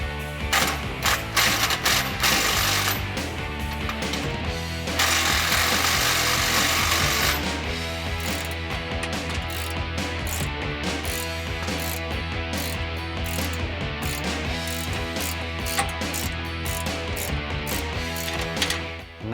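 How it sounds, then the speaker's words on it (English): A ratchet wrench snugs up 17mm bolts on a Barricade bull bar bracket being fitted to a Ford F150. Rapid mechanical clicking runs close and loud in bursts, with a steadier grinding stretch partway through, and no talking. "we're just going to snug up the 17mm bolts, but do not over tighten"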